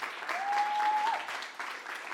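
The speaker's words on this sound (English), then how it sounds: "Everybody clap it up for Damian Hoskins." Audience applause at a live Soft & Tender stage event in Cincinnati, Ohio, moderate and steady across the clip, with a thin whistle or tone sliding through the middle and no speech over it.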